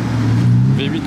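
A car exhaust on a street in Monaco gives a loud, steady low drone up close, with a brief higher whine near the end.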